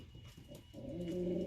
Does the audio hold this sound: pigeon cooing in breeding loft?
yes